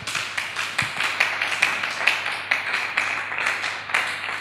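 A church congregation claps in rhythm during a men's worship service, with regular, evenly spaced claps that are moderately close and carry on steadily without speech.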